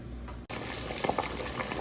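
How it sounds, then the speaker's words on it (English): Sausages simmer in a pot of boiling water for a seafood boil, giving a steady close bubbling and patter with a few brief pops. "we've got our sausage boiling away there"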